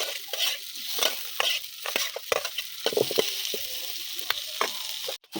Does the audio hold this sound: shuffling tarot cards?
no